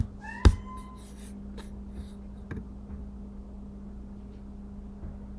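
A pet cat at feeding time gives one short, rising meow near the start, close and clear, followed by a quiet room hum with a couple of faint clicks.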